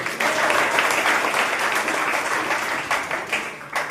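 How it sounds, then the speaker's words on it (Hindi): A crowd claps steadily in dense, continuous applause at a Teachers' Day event, tapering slightly toward the end, with no voices over it. "फिर से जोरदार ताली बजाइए।"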